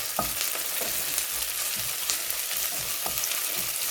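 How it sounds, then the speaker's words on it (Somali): Chopped onions frying in a pan for a Somali home-cooked dish, a steady close crackling sizzle with occasional stirring scrapes, alone without talk. "basasha aan cad ku dalaacay ayaa ii guduudanaysa"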